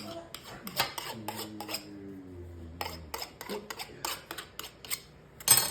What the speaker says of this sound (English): I'm just going to cut off the excess pastry.